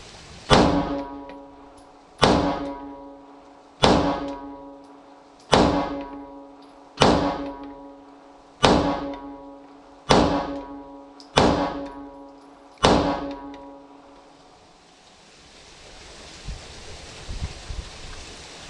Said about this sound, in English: 10 measured shots